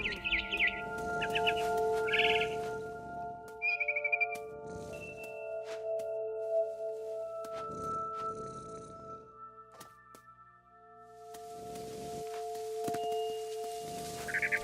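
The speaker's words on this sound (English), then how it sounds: "Then I heard chirping outside my window. It was a barn swallow going back to her nest." A barn swallow chirps outside a window in What Remains of Edith Finch, with short bright tweets and trills in scattered bursts over sustained tonal game music, fairly faint and close.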